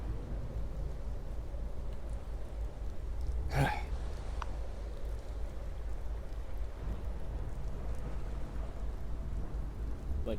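A rainstorm with steady rain hissing over a wide area, broken by one sharp crack of thunder near the middle that rolls briefly before the downpour continues alone.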